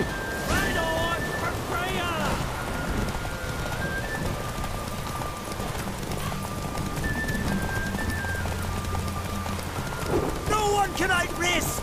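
Horse hooves clip-clop at a race start in The Witcher 3, steady and moderately loud beneath voices shouting and speaking, with a horse neighing near the end.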